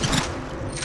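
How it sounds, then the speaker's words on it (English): A quick mechanical weapon reload in the Apex Legends Mobile shooter game: a short metallic rattle and scrape of a magazine and action, played close and loud with no talk over it. "Reloading."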